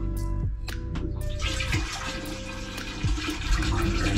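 About a gallon of vinegar poured into a toilet drain line, a steady gurgling rush of liquid close by with a few knocks at the start, no talk.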